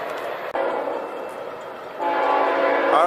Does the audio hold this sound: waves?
no